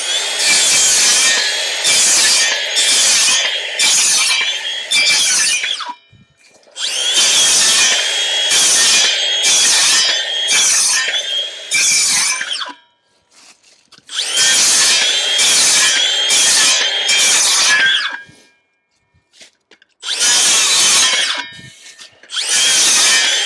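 A circular saw cuts timber for a garden room build in four long bursts, each a loud, harsh whine with repeated pulsing strokes, separated by short silences.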